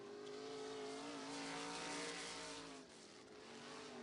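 Field of 305 sprint race cars droning around a track as they come to the green, a loud steady multi-engine roar with harmonic whine and shifting pitch, no talk over it.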